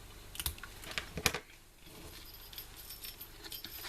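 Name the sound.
small jingle bell on a thread being handled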